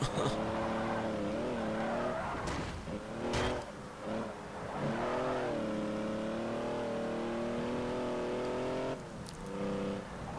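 A car engine in the video game Forza Horizon revs and drones steadily with shifting pitch, a few brief sharp bursts cutting in, loud and continuous with a synthetic, game-like quality.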